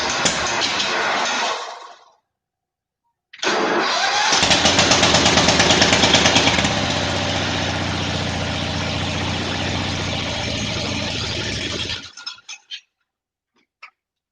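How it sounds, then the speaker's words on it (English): A small tractor engine cranks briefly, stops, then catches and runs loud and steady with a rough low rumble for several seconds before cutting out with a few sputters. "Maybe this one will start better than the other tractor."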